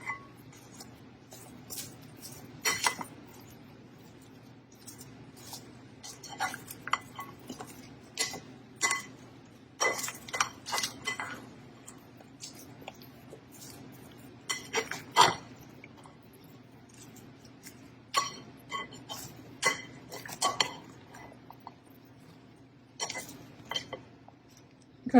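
Vegetables tossed with avocado oil and salt in a bowl, giving a steady run of soft, wet clicks and squishy rustles with brief sharper taps, close and moderately quiet, with no talking.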